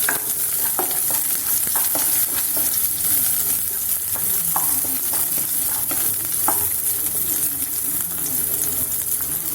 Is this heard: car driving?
no